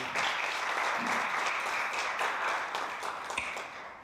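An audience at an event master class claps in a sustained, fairly close round of applause, the dense patter staying steady before thinning out toward the end.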